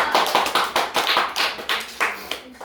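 Applause from an audience at a lecture, a short burst of clapping with steady rhythmic claps, fairly loud and close, with no speech.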